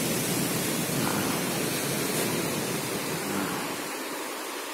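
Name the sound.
sea waves surging into river mouth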